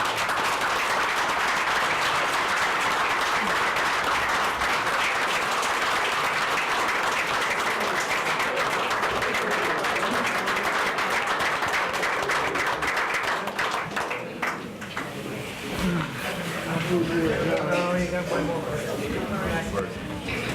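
Applause at the Alexandria, Louisiana city council meeting, a broad, steady wash of clapping that fills most of the stretch before thinning out, with voices and room noise showing through near the end.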